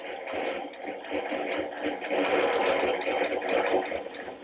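A quilting machine stitching in the ditch, giving a fast, continuous mechanical whirr and rapid needle chatter up close that rises slightly in speed and loudness partway through.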